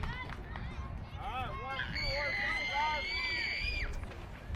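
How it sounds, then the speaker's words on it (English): Baseball crowd at a minor-league game between the CP Expos and Mighty Mussels erupts in high-pitched shrieks and cheers after a hard hit up the middle, a loud sustained wave of voices over stadium hubbub. "the crowd shrieks with delight"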